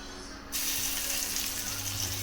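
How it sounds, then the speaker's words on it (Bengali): Chopped garlic hits hot oil already tempered with black cumin (kalo jeere) while radish greens are being cooked; after a quiet half second a sudden, loud, steady sizzling hiss takes over and keeps going. "এই যে কালো জিরে ফোড়ন দিলাম, এবার রসুনটা ফোড়ন"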